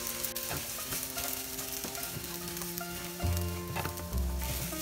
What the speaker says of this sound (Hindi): अभी ग्रीन चिली डाल देते हैं और साथ में करी लीव्स। अभी ये जो साबूदाना हमने लिया है ये भी डाल देते हैं।